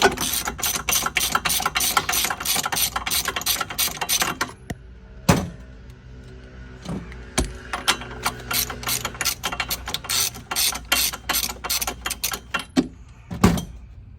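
Rapid clicking of a ratchet with a 13/16 socket backing out a spark plug on a gas EZGO golf cart, bursts of close, sharp pawl clicks separated by pauses and single metallic knocks.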